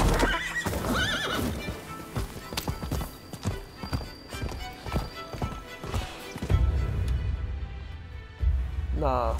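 A horse in the video game Rise of the Ronin whinnies loudly, then hooves clip-clop at a gallop, steady and close, with some talk mixed in.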